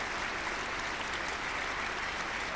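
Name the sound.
crowd applause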